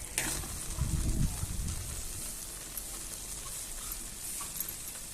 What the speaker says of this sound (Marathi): याच्यावर आपण असं अजून ते गावरण तूप सोडून घेणार आहे